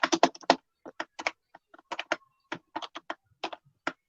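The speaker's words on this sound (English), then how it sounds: "I'm just gonna type it in here." Someone types on a computer keyboard, producing close, crisp clusters of key clicks in uneven bursts with short pauses between them.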